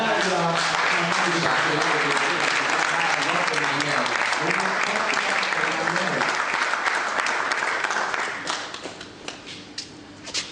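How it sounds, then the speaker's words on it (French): Sustained audience applause at a ceremony, loud and dense with voices mixed in, easing off after about eight seconds into scattered claps. "Sous vos applaudissements"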